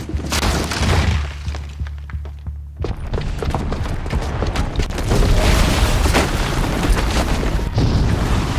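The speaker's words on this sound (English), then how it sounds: "the booby trap on the bomb downstairs is gonna get set off" A bomb booby trap goes off in Horizon Zero Dawn with a loud, deep boom, followed by heavy rumbling and crashing debris that keeps going at high volume.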